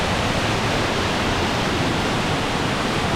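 A waterfall in a cave rushes steadily and loudly, a dense unbroken roar filling the space for the whole stretch with no voices over it.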